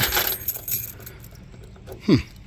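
A bunch of keys jangles and clinks while being tried on a 1959 Ford Thunderbird, a few faint close metallic rattles ending in one brighter clink.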